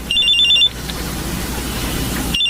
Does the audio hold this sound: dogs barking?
no